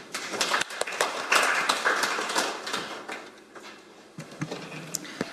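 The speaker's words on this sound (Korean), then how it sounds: "박진호 교수님을 큰 박수로 맞이해 주시기 바랍니다" At a policy forum on an AI-native government, a modest audience gives scattered, uneven clapping to welcome the moderator, soft and fairly close, thinning out toward the end.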